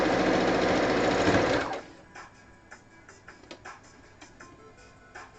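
A sewing machine runs loud and steady, stitching fabric dice bags, then stops after about two seconds, leaving faint clicks and handling noises.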